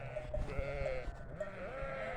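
Sheep bleat repeatedly at close range on a farm in snowy Yunak, Konya, with several wavering calls overlapping against a faint background.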